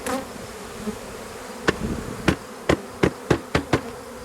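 Buzzing of a honeybee swarm being shaken from a bucket into a hive fills the background, with a series of sharp knocks or taps repeating in quick succession toward the end.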